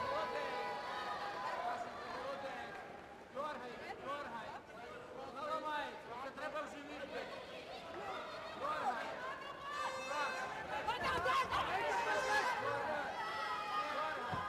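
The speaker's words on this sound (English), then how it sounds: "Loud cheering all the way through." A boxing arena crowd in Greater Noida cheers and chatters steadily for the whole stretch. The loud, dense roar of voices swells higher toward the end, with no clear breaks.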